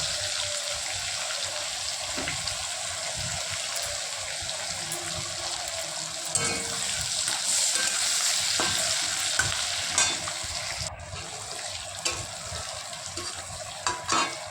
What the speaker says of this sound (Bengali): প্রথমেই আমি কালো জিরেটা দিয়ে দিলাম তারপরে রসুন কুচি আর কাঁচা লঙ্কা কুচি দেব হালকা নাড়াচাড়া করবো